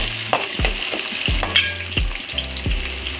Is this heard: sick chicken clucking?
no